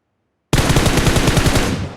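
Automatic gunfire in PUBG Mobile erupts after half a second of silence: a loud, rapid burst of shots in an even rhythm, sustained to the end.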